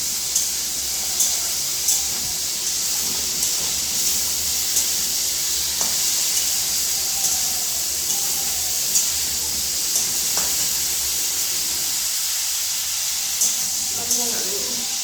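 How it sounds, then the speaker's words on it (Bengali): Steady hiss of small Golda prawns frying in hot oil, with faint sizzling throughout and occasional soft clicks and pops; a voice is heard briefly. "চিংড়ি মাছ খুব তাড়াতাড়ি ভাজা হয়ে যায়"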